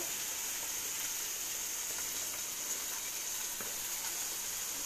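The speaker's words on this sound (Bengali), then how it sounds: "এই যে চুনো মাছ ভাজা হচ্ছে" Small chuno fish fry in a hot pan with a steady, close sizzle and hiss that holds at an even level throughout, with no voices over it.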